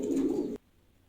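A single soft pigeon coo inside a pigeon loft, a short low warble lasting about half a second, close by, and then quiet.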